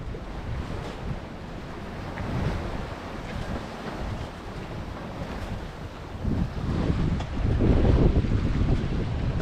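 Strong wind and breaking waves around a sailboat on a solo passage, a constant roaring rush of air and water that swells louder toward the end, with no talking.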